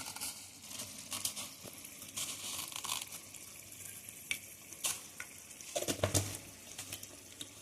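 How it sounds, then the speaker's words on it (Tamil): Chicken sautéing on its own in a pan gives a soft, constant sizzle, overlaid by bursts of scraping and clattering as it is stirred, with a louder rattle near the end. "இது வந்து தனியாக நான் எடுத்து வதக்கிட்டுருக்கேன்."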